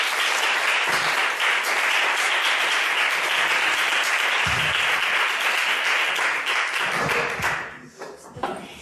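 An audience at a public education event welcomes a speaker with dense, sustained applause that stays loud for several seconds, then thins into a few scattered claps as it fades out.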